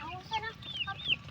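Chickens on a farm raised for eggs and meat give short, soft clucks and a few higher squawks in a quick, uneven burst against a faint background.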